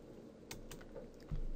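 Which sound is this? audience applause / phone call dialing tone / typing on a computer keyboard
typing on a computer keyboard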